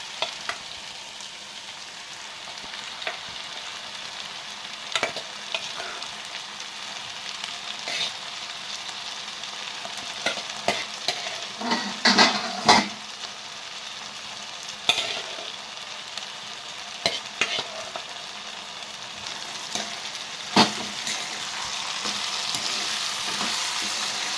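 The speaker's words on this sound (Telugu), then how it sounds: "పచ్చి శనగపప్పు అయితే వేస్తున్నాను" Raw chana dal and eggplant pieces fry in a pan. A soft, steady sizzle continues throughout, broken by occasional spoon scrapes and taps, the busiest stretch coming around the middle, and no one speaks.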